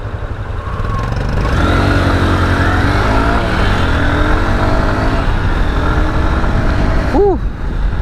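A Honda CB200X motorcycle accelerates on a road. The engine hum stays loud and steady, nearly drowned by heavy wind roar, and a brief rising tone sounds near the end.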